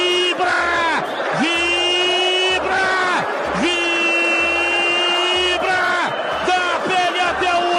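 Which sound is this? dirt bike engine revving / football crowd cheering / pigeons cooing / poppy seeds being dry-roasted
football crowd cheering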